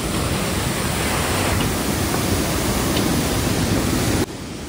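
A rain-swollen mountain river rushes loudly along the Kedarnath trek near Rambara during rainfall, a dense continuous roar of water close by with no voices.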